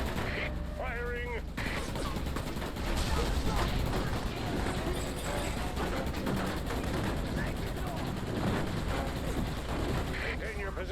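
Sustained gunfire in the Roadkill car-combat game on Xbox: dense, continuous rapid shots and machine-gun bursts over steady engine and battle noise, with a voice giving orders over the din.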